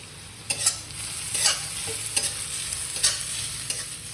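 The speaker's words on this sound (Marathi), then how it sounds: "आता ना हा कांदा मी एकदम छान मऊ असा होईपर्यंत परतून घेणार आहे" Onion sautéing in a pan with steady sizzling frying, punctuated by repeated scraping stirs of a utensil against the pan, close and continuous with no talking.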